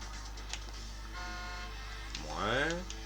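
A modded truck horn in SnowRunner blares near the end with a rising, bending tone, after a softer earlier honk, over a steady engine idle.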